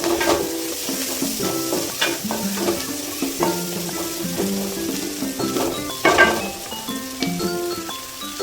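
Onions sauté in a pan until golden, crackling and sizzling beneath repeated scraping and clinking of a utensil stirring against the metal.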